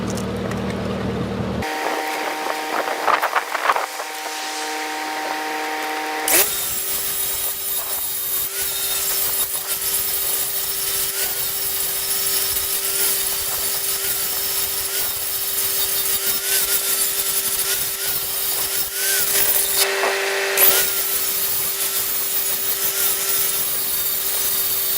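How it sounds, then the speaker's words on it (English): Angle grinder grinding down the walls of a coped steel pipe, a harsh, loud, sustained whine with brief pauses and restarts, close up. "go in there with a grinder real quick and grind all these walls down a little bit"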